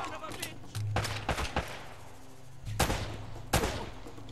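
Gunfire in Uncharted: Drake's Fortune, several sharp shots in short bursts, a cluster early on and two louder cracks later, close and punchy, with a voice talking between them.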